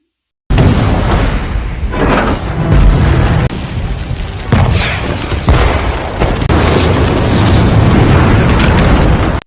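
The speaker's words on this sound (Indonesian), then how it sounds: "Kapten Bule sudah bersiap menghancurkan biara dengan senjata modernnya" A monastery is blown apart by modern weapons in a film battle scene, heard as loud, sustained roaring blasts and rumbling booms layered one after another for several seconds.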